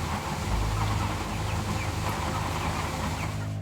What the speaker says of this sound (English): we would like to have the chickens outside, making use of the outdoor run